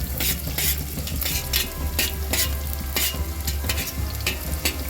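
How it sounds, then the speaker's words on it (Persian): Onions and garlic fry in hot oil at the bottom of a cooking pot. A loud, steady, crackling sizzle runs throughout, with stirring and scraping noises and no talking. "روغن داره برای خودش میجوشه و پیازها هم به این صورت هستش"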